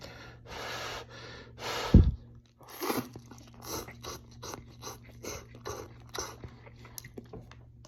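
Someone eats Jin Ramen mild cup noodles up close, with slurps, crunchy bites and chewing in an uneven rhythm, plus a sharp breathy gasp early on, and no talk.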